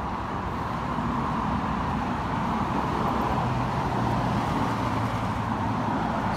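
Steady street traffic: a continuous broadband rumble of passing cars and road noise that holds evenly throughout, with no clear pauses or distinct vehicle pass-bys.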